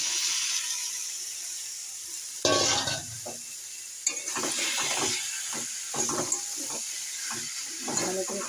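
Chunks of young jackfruit dropped into a hot pan, then stirred with steady hissing sizzle and repeated scraping strokes, close and continuous with no talk.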